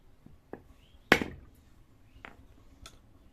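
A large coconut is cracked open by hand: a few light taps, then one sharp, loud splitting crack near the start, followed by a couple of fainter knocks, close up with no voices.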